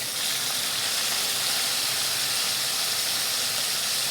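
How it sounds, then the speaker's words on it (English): A venison loin sizzling in a pan over medium-high heat just after being flipped, a loud, even, continuous hiss of frying juices with no break. "some of the juices are starting to come out, so we're going to flip it now"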